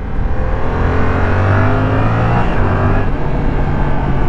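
A Yamaha R7 motorcycle engine drones loud and steady as the bike accelerates and leans into a turn, with wind rush throughout and no talk.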